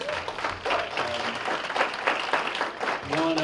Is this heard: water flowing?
no